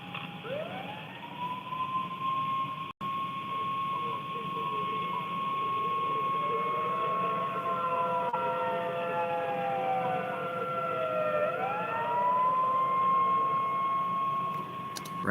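A Wieland WS1000 civil defense siren running on its original controller, wailing loud and continuous with rising and falling pitch sweeps and layered overlapping tones across the whole stretch.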